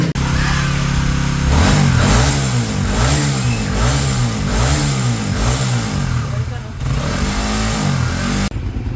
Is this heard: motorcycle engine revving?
yes